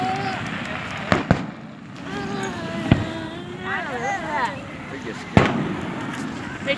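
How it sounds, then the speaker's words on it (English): Canada Day fireworks go off at night as four sharp, scattered bangs of varying strength, heard under people talking nearby. "There's fireworks now."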